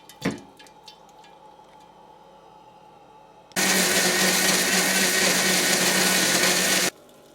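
An electric wet grinder churns soaked rice and urid dal, a loud, steady whirring roar that starts abruptly partway through, runs for about three seconds and then cuts off, after quieter faint kitchen sounds.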